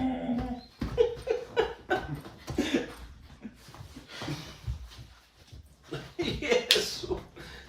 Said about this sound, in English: Just having fun with my dog.